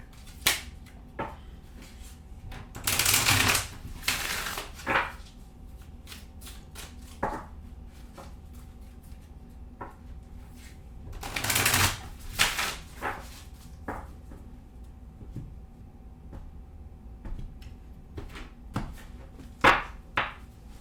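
Tarot and oracle cards are handled in a quiet room: two bursts of riffle shuffling are set among scattered soft taps and snaps as cards are cut and pulled.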